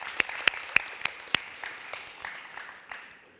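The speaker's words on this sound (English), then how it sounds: "I think a round of applause for them again, please." Brief applause at a school renaming ceremony in Suva after a dance performance: a few loud, close claps ring out, then the clapping thins and fades within a few seconds.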